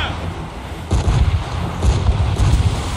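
Enemy ship cannon fire in the Assassin's Creed Rogue naval battle game: a steady low rumbling barrage of booming shots rolling in waves, loud and heavy, with voices in the mix.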